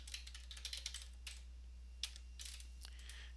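Quiet, uneven keystrokes on a computer keyboard as a password is entered into an SFTP client login, a short burst of distinct clicks over a low steady hum.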